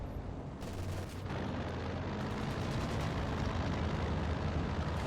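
Panzerwerfer rocket artillery barrage in Company of Heroes 2, with rumbling explosions overlapping into one continuous loud roar and a sharp burst near the start.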